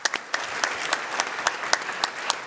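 A conference audience at a startup pitch competition claps, the applause sparse and fairly quiet with individual claps standing out in an uneven rhythm.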